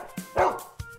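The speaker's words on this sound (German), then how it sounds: "Das ist ein Hund." A dog gives a few short, fairly soft barks and yips spaced across about a second, standing alone without other sound.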